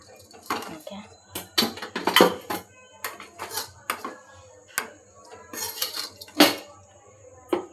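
Fried idli are lifted out of a pan with a metal utensil, giving irregular scraping and clinking against the pan, fairly close, while a person talks intermittently.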